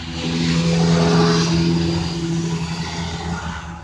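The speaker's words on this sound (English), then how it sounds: "I had to go ahead and wait for a truck to pass by" A truck passes by close to a parked 2010 Chevy Aveo LT. Its engine drone swells to a loud peak, then fades gradually as it moves away, with no talking.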